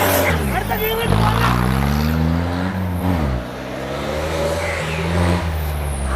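A modified Mahindra off-road jeep revs hard climbing out of a pit, its engine note rising and falling in surges, close and loud over crowd chatter.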